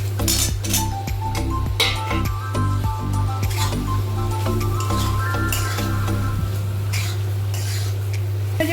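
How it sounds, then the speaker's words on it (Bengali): Potatoes added to a spice paste frying in a pan for dum aloo, with sizzling, stirring and metal utensils clinking against the pan in a steady close rhythm over a constant low hum. "এরপরে আমি আলুগুলো দিলাম।"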